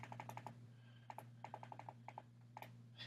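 Quiet plastic clicks from buttons on a Wacom tablet pressed for command key shortcuts, coming in quick clustered bursts of taps over a low steady electrical hum, close and soft.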